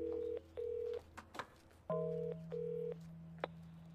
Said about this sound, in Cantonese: 打電話俾佢大佬